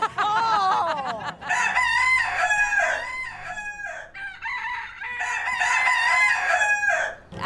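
Key West roosters crow loudly and close, two long cock-a-doodle-doo calls back to back, with a brief cluck before the first.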